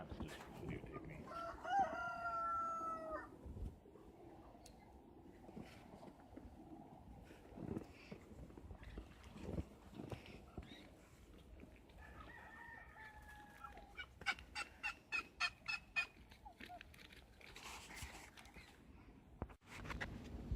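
Roosters crowing and chickens clucking around poultry pens, several loud crows near the start and again midway, with a rapid run of sharp clucks toward the end over steady outdoor background noise.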